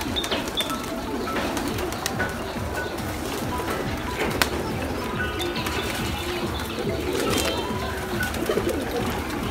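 Pigeons on a pigeon farm coo and flutter continuously while feeding on a mix of corn and paddy grain, close and busy, with faint chirps and no talk.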